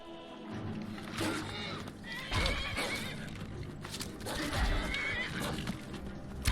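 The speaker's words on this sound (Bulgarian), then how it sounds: "Коня ми бяга!" Horse neighs and runs off in the video game Skyrim: loud whinnies over clattering hoofbeats and noisy ambient game sound, with a voice faintly present underneath.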